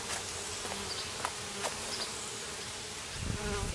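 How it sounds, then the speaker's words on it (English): A dense, steady buzzing of many honeybees swarming close by around an open hive, with wings zipping past now and then; no talking. "plus the bees are everywhere"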